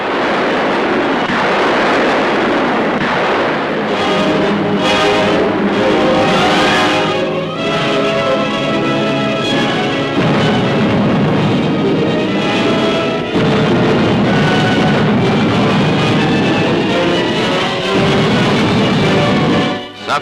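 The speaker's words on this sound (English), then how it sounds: "Rocket fire from the little ships answers the blizzard of fire hurled at them from the land" Rocket fire from small landing ships and heavy gunfire from shore at the 1944 Walcheren landing, a dense, loud, continuous barrage of booms and roaring blasts with no let-up.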